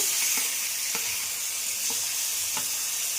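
A ginger-garlic and cumin-coriander paste sizzles loudly in a pan of frying onions, a constant hiss broken by soft clicks of stirring.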